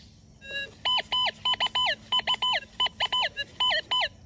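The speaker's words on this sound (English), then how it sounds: "If I move, we receive a tone." A Gold Monster 1000 metal detector sounds a rapid series of loud, warbling target tones, each short chirp repeating in close succession with brief gaps between bursts, up close and alone.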